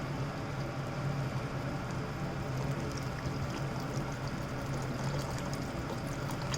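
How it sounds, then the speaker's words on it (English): Water poured into a pot of pressure-cooked rajma kidney beans for dal, a steady continuous rushing pour held at even loudness throughout, close and without talk. "Now to this I'm going to add some water."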